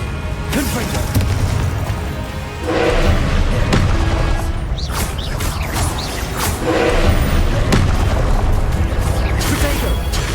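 Confringo fire spells explode in Hogwarts Legacy, a burst of booming, crackling blasts with crashes running under steady combat noise and a voice, heavier bursts near 3 and 7 seconds.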